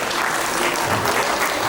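Short burst of steady audience clapping at a children's birthday party magic show, a dense, even patter of many hands filling the room with no voices over it.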